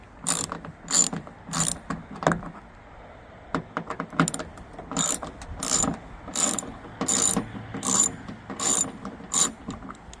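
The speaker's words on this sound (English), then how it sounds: "for that I'm using ratchet with socket Torx bit number 30" A ratchet with a T30 Torx socket backs screws out of the plastic liftgate trim on a 2008–2017 Jeep Compass. Repeated bursts of rapid clicking come up close and loud, separated by short pauses, with no talking.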